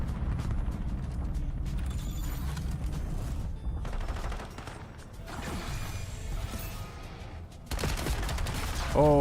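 Gunfire bursts from a Call of Duty: Black Ops 7 multiplayer match, dense and loud with mechanical clatter and crashes, over game music and announcer callouts.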